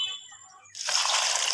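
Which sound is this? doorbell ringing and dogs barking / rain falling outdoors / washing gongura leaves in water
washing gongura leaves in water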